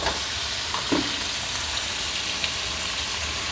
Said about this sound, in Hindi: ये देखें, यहाँ मेरी चिकन फ्राई हो रही है अच्छे तरीके से